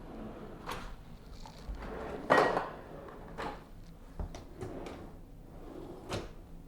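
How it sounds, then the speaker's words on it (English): Deep kitchen drawers and a pull-out trash can slide open and shut during a house walkthrough. Several soft knocks and rolling slides are spaced out, with one louder thud near the middle, and there is no speech. "nice deep drawers all the way through."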